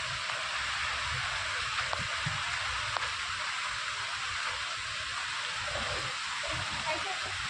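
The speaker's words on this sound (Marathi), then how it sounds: "कसला पाऊस आहे बघ." Heavy monsoon rain pours down steadily as a broad, continuous hiss, with a few faint clicks and low household sounds beneath it.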